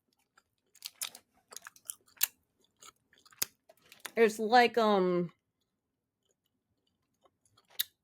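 Chocolate Tootsie Roll candy being unwrapped and chewed up close, a run of small sticky clicks and crinkles, with a person talking briefly partway through.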